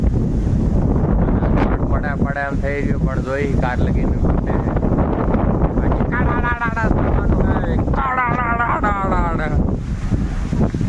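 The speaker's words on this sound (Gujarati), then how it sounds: "જો આટલો બધો પવન આવ્યો હોય આવી રીતે" Strong wind roars and buffets the microphone throughout, a steady rumbling gust under people talking.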